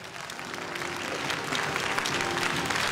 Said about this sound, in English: Clap your hands one more time.